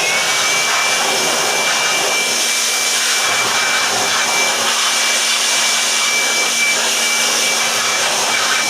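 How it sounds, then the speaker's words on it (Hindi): An electric blower blows dust out of a local UPS unit, making a loud, continuous, steady whooshing roar with no breaks or speech. "ब्लोअर के साथ आपकी सफाई करें तो इसकी बेहतर तरीके से सफाई होगी"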